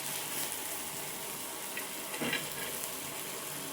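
Thalipeeth flatbread roasting in a hot pan, giving a soft, even sizzle that holds steady throughout with one faint scrape partway through, quiet and close with no talking.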